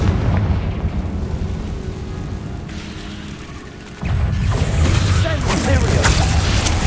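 A Confringo spell explosion in Hogwarts Legacy lands as a deep, rumbling blast over a steady backdrop of game noise, growing louder and fuller partway through.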